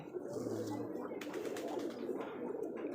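Rajshahi giribaj pigeons at a large loft coo in a dense, continuous murmur that sounds like many birds together, with some light clatter mixed in.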